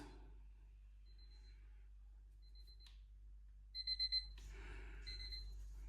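A faint electronic locator chirp from QCY MeloBuds N70 earbuds: a few short high beeps, then a quick burst of four rising pulses, quiet against near silence.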